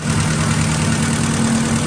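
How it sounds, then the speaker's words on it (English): Acura Integra GSR with a B18C1 engine idling steadily while it warms up, a loud, even drone with a low hum that holds constant throughout, recorded close with no voices. "the engine's getting warmed up"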